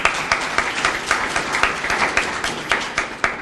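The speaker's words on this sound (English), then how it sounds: "So let's give him another round of applause" A room of attendees at a Department of Corrections kitchen event claps in short, fairly even applause, with distinct nearby claps over a steady background of hands.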